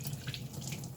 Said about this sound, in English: She's just washing them with some soap here.